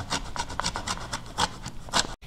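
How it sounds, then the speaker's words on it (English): Lemon zest is grated for an apple cake, a series of quick close rasping strokes of peel against a grater in an uneven rhythm. "Some lemon zest."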